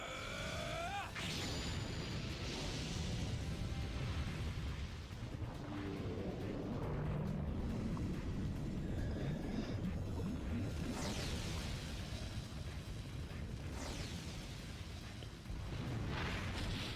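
An explosion spell in the Legend of Dragoon video game, a sustained, dense roaring rumble with repeated swelling bursts over several seconds, loud and continuous.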